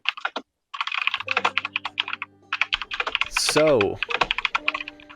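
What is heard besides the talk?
loud computer keyboard typing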